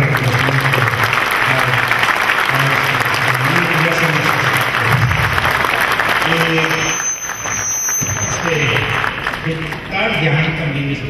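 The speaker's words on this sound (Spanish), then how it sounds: "Yo por eso pido un aplauso para el presidente." Steady applause from a conference audience for the president, continuous clapping at close range with a voice speaking over it throughout.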